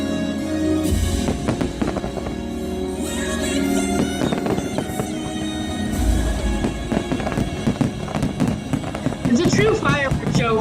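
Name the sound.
fireworks show at Epcot's Luminous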